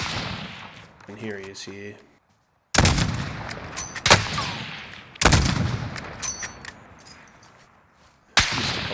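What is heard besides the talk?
sniper rifle shots in Call of Duty Modern Warfare video game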